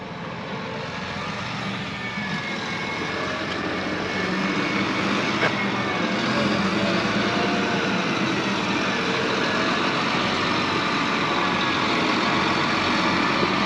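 A truck rumbles in from a distance on a farm, hauling new planters and towing a tractor, its engine drone broadband and steady, growing slightly louder as it approaches.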